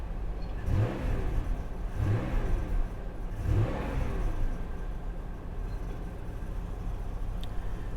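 Van engine running close by, idling with a steady low rumble, with three rising revs in quick succession early on before it settles back to a smooth idle.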